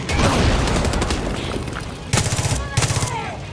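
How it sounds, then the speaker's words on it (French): Rapid bursts of Far Cry 6 gunfire crackle loudly, with a sustained volley followed by two sharper automatic bursts. "Par contre, là, il y a des coups de feu."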